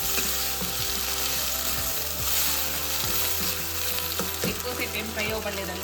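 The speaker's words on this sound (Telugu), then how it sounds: "కొత్తిమీర, పుదీనా వేసి బాగా కలుపుకున్నామండి" Green chillies with coriander and mint sizzle steadily in a pan, with repeated scraping strokes of a stirring spoon standing out over the constant frying hiss.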